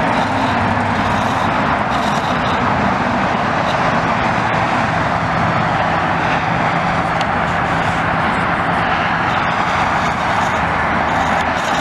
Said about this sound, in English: There is a plane coming there.